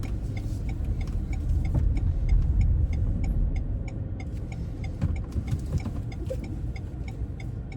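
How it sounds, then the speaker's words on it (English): A car engine idles and turns over steadily during a three-point turnabout on a mock driving test in Finglas, a low continuous hum with faint ticking, an indicator, heard from inside the cabin. "We're going to turn the car around facing the opposite direction."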